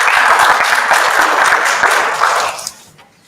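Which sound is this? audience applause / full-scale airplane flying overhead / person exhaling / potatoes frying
audience applause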